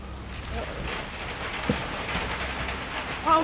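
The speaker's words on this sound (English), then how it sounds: "it's raining a lot here" Steady rain patters and hisses on surfaces, constant and moderately loud, with a brief thump midway.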